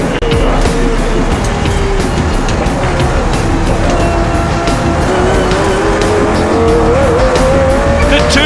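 A Lamborghini and a Ferrari race car battling into turn 1 at Calder Park during a Pirelli GranTurismo Championship round: loud, continuous engine roar with rising and falling revs, close and dominating, with no talk.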